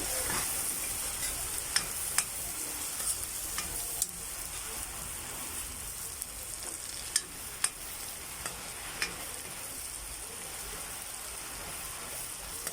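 Food sizzles steadily in a frying pan after a splash of soy sauce, with occasional sharp clinks and scrapes of a utensil stirring, close up and alone.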